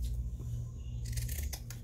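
Scissors snipping paper for an envelope flip book journal, a few quiet close cuts over a low steady hum, with sharper snips near the end.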